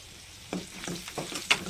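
Crushed shallots sizzle softly in a hot pan while being stirred, with a low continuous frying hiss and a few brief scraping stirs close by.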